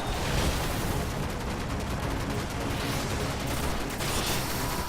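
A swarm grenade detonating in the Destiny video game: a dense, continuous roar of crackling blasts and rapid pops that stays loud and close from start to finish.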